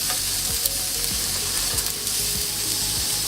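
A steak on a barbecue grill sizzles steadily throughout as it is turned, with a dense frying hiss and a few brief scraping knocks from the turn.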